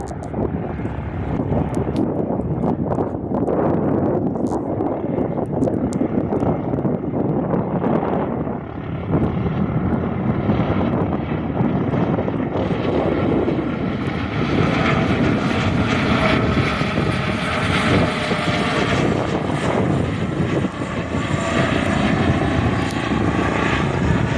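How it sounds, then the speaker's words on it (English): A Cessna light propeller plane drones loudly overhead for the whole stretch, its engine roar swelling and shifting pitch as it passes over a runway, with wind buffeting the microphone. "And another Cessna going over the top of the runway again."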